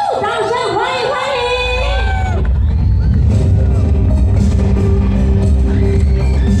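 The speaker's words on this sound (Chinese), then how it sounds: "尖叫声" A festival banquet crowd at a temple celebration roars and screams for a singer taking the stage. A shrill, whooping amplified voice comes first, then gives way to a loud, continuous wash of cheering and shouting that includes children's voices.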